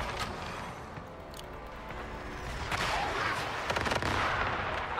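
A grenade goes off in a video game during a fight with the Ravenous Hunter, a bursting blast and rumble that builds in the second half with sharp crackling hits, close and loud.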